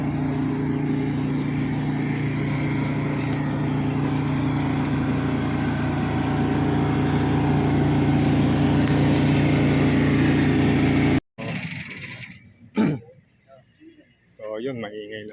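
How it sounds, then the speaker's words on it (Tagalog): A loud generator drones steadily near a new pagoda in Bocaue, a constant engine hum for about eleven seconds before cutting out abruptly, leaving quieter background sounds. "maingay lang yung generator"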